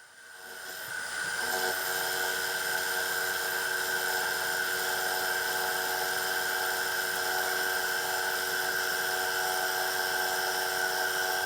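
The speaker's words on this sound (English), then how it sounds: "Back at the mill, I have the part set up at a 45-degree angle." A milling machine cuts a metal part set at a 45-degree angle while fabricating a table saw guard, giving a steady, loud, continuous high-pitched whine with a strong tone that holds unbroken after a short ramp-up.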